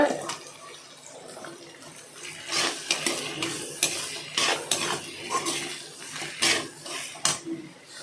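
Beans tossed into a cooking pan for vegetable kurma and stirred, giving repeated scraping clatters of a spoon against metal over a soft frying hiss, irregular and close.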